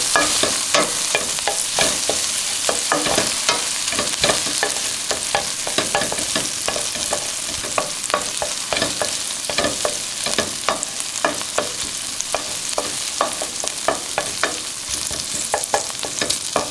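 Seasoned onion frying in a pan, previously cooked with butter, giving a continuous loud sizzle with rapid, repeated spatula scrapes and clicks throughout, close and alone.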